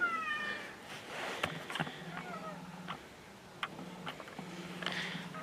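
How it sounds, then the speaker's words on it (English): A cat meows several times outdoors in a fall garden, with high plaintive calls over a noisy background of ticking and faint birdlike chirps; no talking heard. "Cat's meowing."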